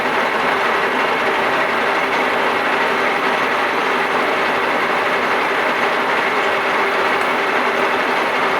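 A lathe bores a hardened universal-joint part with a CBN cutter, producing a loud, continuous mechanical drone with a steady whine and rumble that never lets up. No one speaks.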